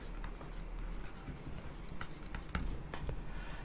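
Marker or chalk scratches and taps on a classroom board during a lecture, short faint strokes in irregular bursts, fairly quiet with room noise underneath.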